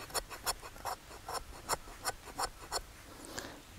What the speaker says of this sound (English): I like to make fat wood handles for my fire steels, and it's where you can scrape a little tinder off here.